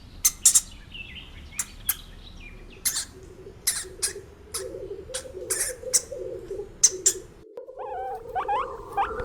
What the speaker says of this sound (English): Hamster.